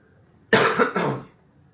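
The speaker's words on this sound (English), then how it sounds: "Still lingering with that cough." A single lingering cough from an adult speaker, a close, sharp double burst lasting under a second, set against a quiet background.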